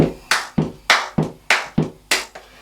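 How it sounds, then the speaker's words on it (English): Hand claps in the rhythm of a song: about eight crisp, close claps in a steady, slightly syncopated pattern, with nothing else heard. "in the song there's some hand claps"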